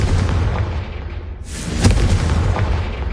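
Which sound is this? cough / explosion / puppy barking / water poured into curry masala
explosion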